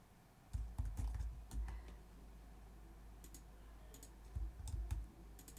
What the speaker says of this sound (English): Oh, it's the arrow keys to move.